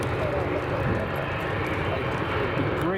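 A Virgin airliner taxiing at Edinburgh Airport gives a steady, continuous engine roar and rumble at moderate distance, partly under outdoor background noise.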